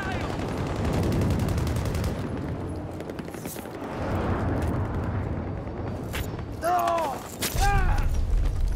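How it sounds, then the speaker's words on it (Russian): Gunfire crackles from all directions in the shooter Battlefield 2042, dense bursts layered with mechanical clatter and battlefield noise throughout, with a few whooshing projectile sweeps near the end. "Стреляют со всех сторон!"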